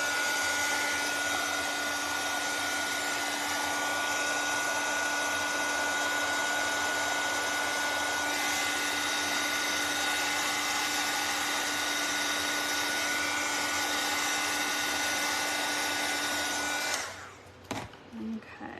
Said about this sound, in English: I'm gonna hit this with the dryer too real quick.